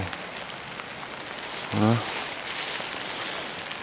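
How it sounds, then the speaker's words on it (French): Rain falling on a vegetable garden in February, with raised beds, rows of carrots and growing tunnels: a steady, fine hiss of drops across the whole stretch, with one brief spoken word partway through. "ça commence à bien pleuvoir"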